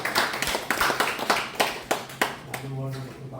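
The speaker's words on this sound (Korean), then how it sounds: "박수 한번 주시죠." Lecture audience at a talk on Korean unification claps in scattered, uneven bursts, individual hands audible rather than a dense wall, before a voice begins speaking over the tail end.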